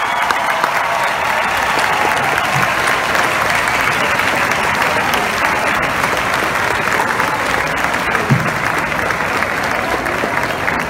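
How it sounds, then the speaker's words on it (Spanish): A large crowd at the farewell for Pope Francis, with Barranquilla Carnival celebrations, applauds in a loud, continuous, even roar of clapping that holds steady for about eleven seconds. "despidamos al Papa Francisco con un fuerte aplauso"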